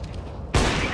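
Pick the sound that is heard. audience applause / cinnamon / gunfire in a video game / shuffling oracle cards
gunfire in a video game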